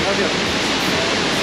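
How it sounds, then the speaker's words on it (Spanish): Peguche waterfall at night, a dense steady roar of falling water filling the whole short stretch, with a voice briefly speaking over it. "Justamente en la cascada de Peguche"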